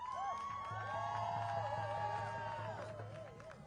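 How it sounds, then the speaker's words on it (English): Protest crowd cheering outside the Democratic National Convention, a sustained roar of voices with whoops and shouting mixed in, heard from within the gathering at steady loudness. "What a crowd!"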